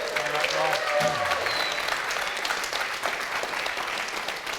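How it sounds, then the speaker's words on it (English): Applause and cheering from a convention audience at RuneFest 2014, honoring artist Mod Alfred; dense, sustained clapping fills the hall as someone speaks over it briefly at the start. "Give him a cheer"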